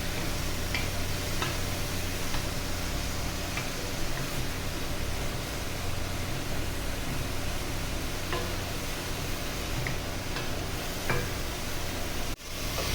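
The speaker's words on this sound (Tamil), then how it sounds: "இப்போ நம்ம கொஞ்சம் கிளறி விட்டுக்கலாம்." Banana stem poriyal being stirred in a pan, with a steady sizzling, frying hiss and faint scraping ticks of the spoon continuing throughout, then a brief knock near the end.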